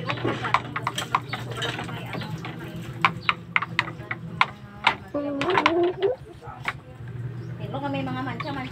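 A black horse ready for breeding clip-clops on a farm, its hooves giving a steady run of sharp, close knocks, with chick-like chirps mixed in toward the end.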